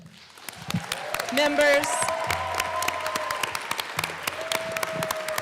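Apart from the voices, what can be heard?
legislative assembly applauding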